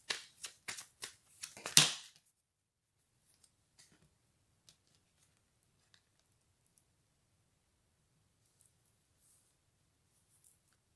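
Oracle cards shuffled and drawn by hand, a quick close burst of riffling flicks and snaps in the first two seconds, then near silence with a few faint taps.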